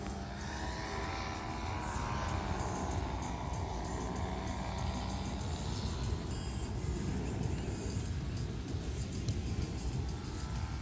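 A paramotor drones overhead above Dania Beach in the evening, its propeller engine a steady buzzing hum with a slowly shifting pitch as it passes low, continuous and moderately distant, with faint speech underneath.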